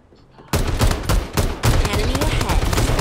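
Shooter video game gunfire: after brief quiet, loud close shots burst out in rapid, repeated volleys that continue steadily without talk.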